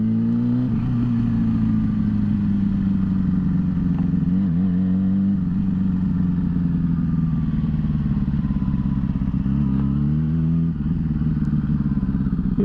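Motorcycles, including Harleys and superbikes, idle together at a bike night, a steady low engine rumble that keeps on without a break, with a few throttle blips rising and falling over it.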